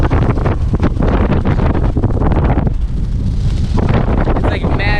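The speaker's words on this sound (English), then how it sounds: "I have no idea if you're gonna be able to hear this clearly because it's so windy." Strong beach wind buffets the microphone in a continuous loud roar and rumble that swamps everything else, with only brief lulls in the gusting.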